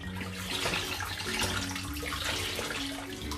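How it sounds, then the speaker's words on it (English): Continuous splashing and gushing of water close by as water is squeezed out of a toy, a steady watery rush like liquid being wrung out into a basin. "get as much of the water out as possible"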